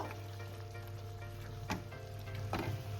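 Chicken masala fry being stirred in a pan, cooked dry without gravy: a constant close sizzle with a couple of brief scraping stir strokes near the end.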